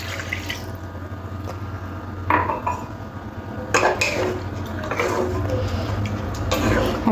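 Water is poured into a pot of mung lentils for boiling, giving splashing, trickling bursts with metallic clinks of the pot in between, close and fairly loud, no talking.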